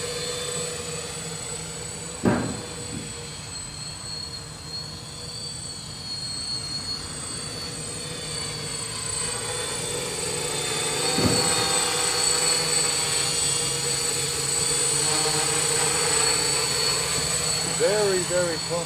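Motors of a DJI Naza-M multirotor drone in flight give a steady, whining drone with strong high harmonics that swells slightly midway, with a couple of brief thuds along the way.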